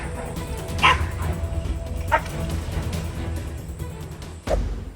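A dog gives a few sharp barks and yips spread over several seconds, with whimpering between them, over a steady low background rumble.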